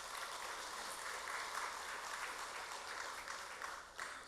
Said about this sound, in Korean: 일터에서 수고하시는 모든 이들을 위해서 박수하겠습니다.